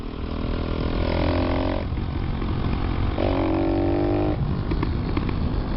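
Motorcycle engine with a Leo Vince exhaust roars steadily with rising revving tones and a scatter of sharp popping backfire crackles from the exhaust, loud and close.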